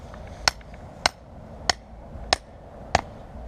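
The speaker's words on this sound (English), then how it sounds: "I'm just going to hammer it the rest of the way" Five evenly spaced hammer blows drive a metal stake into the ground while a 20x20 pole-and-stake canopy is set up outdoors, each strike a sharp, close knock about every 0.6 seconds over a faint background hiss.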